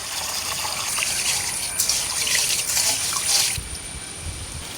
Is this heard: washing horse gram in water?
yes